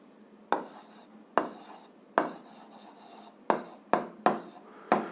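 Writing strokes on paper or a board during a physics lesson, heard as eight separate rasping, scratchy bursts, each starting sharply and trailing off, spaced irregularly with quiet gaps between, close and fairly soft with no talking.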